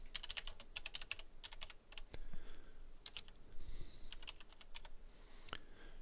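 Domain names being typed on a computer keyboard: quick, close bursts of clattering keystrokes in uneven runs with short pauses between, no talking.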